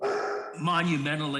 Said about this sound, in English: oh, that's my dog, I apologize.